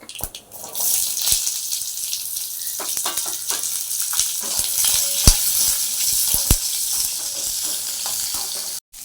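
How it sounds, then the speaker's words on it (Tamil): Pirandai (adamant creeper) sautéing in oil in a pan, a loud, close, continuous sizzle with crackling pops and occasional sharp spatula clicks against the metal. "எண்ணெய் குத்தி நான் வதக்கின்னு இருக்கேன்"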